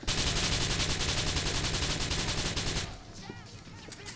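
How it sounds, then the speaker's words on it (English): Sustained automatic gunfire in GTA IV, a loud rapid fusillade lasting nearly three seconds before dropping to quieter scattered shots and background game noise. "Who's shooting at me?"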